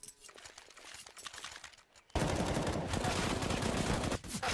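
Gunfire in CS:GO on the Inferno map during a pro match: scattered quieter shots, then a loud, sustained rapid burst of automatic fire that fills the rest of the moment.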